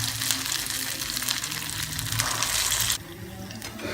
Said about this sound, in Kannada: ಇದನ್ನು ಹಿಟ್ಟಲ್ಲಿ ಮುಳುಗಿಸ್ಬಿಟ್ಟು ನಿಧಾನವಾಗಿ ಎಣ್ಣೆಗೆ ಬಿಡೋಣ